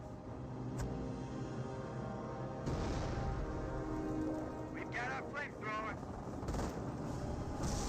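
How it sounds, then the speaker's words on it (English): Greyhound armored car firing in Company of Heroes: sustained bursts of gunfire layered over dense battle noise, with indistinct in-game voices mixed in. "the Greyhound firing"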